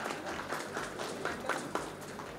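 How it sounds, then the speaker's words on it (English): Audience applause at a conference session on AI and robotics for utilities, a moderate, fairly distant patter of many hands clapping continuously in a large hall. "Let's have a huge round of applause for Shri Abhishek Ranjan"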